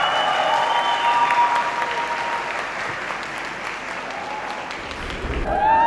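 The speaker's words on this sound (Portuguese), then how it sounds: "Vamos aplaudir os recém-casados?" Wedding guests applaud the newlyweds in a sustained round of clapping, with music tones drifting faintly beneath and a louder swell near the end.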